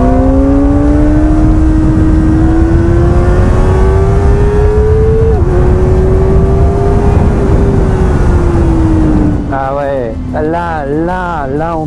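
A Kawasaki Ninja ZX-4RR four-cylinder sport motorcycle engine screams loud and close, its pitch climbing steadily under acceleration, then blipping in quick up-and-down revs near the end.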